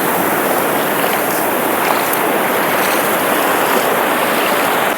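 A constant loud roar of sea surf breaking on rocks nearby along a Karnataka beach, with wind rushing over the microphone throughout.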